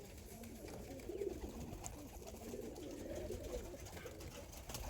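Pigeons of Andhra and similar fancy breeds, kept as black pairs for sale, coo softly in a steady, continuous murmur that sits at a low, even level throughout.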